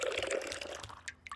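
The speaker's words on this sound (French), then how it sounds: "Le robinet a laissé couler toutes ces gouttes." A tap dripping water into a bucket in an animated children's show: a brief, soft run of wet drips and splashes, close by and fairly faint, with no one talking.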